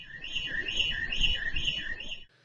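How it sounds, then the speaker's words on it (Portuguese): A pharmacy store alarm going off during a robbery, a loud electronic warbling siren repeating in even rising-and-falling cycles for about two seconds before cutting out. "Em seguida, o alarme dispara, mas não intimida os suspeitos."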